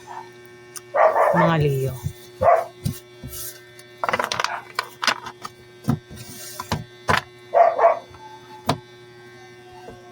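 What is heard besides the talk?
dogs barking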